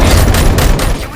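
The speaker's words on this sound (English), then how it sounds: "Gunshots? What's going on?" Gunfire in the Robocop Rogue City video game comes as a loud, dense volley of rapid booming shots that crowd together over about a second.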